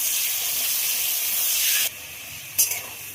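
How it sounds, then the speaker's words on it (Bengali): Potatoes fry in hot oil with a steady, loud hiss that suddenly drops to a quieter sizzle, then a short sharp crackle rises near the end. "আলুগুলো ভেজে নেব, আলুগুলো দিয়ে ভাজার জন্য খুব ভালোভাবে নেড়ে দেবো"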